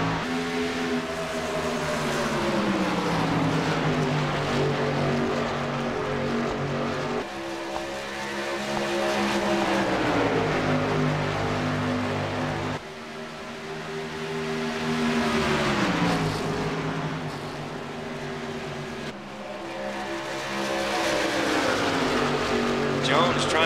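Race cars roar around Kentucky Speedway in repeated waves, engine pitch rising and falling as packs pass, with a commentator talking over the steady racing noise.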